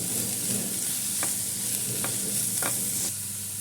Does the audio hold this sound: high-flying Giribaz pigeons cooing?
no